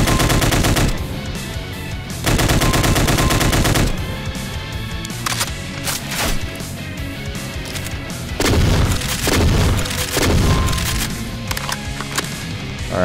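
Chaingunners fire sustained machine gun bursts in Doom with the Project Brutality mod, loud rapid rattling volleys broken by short pauses and mixed with booming explosions and other game sounds.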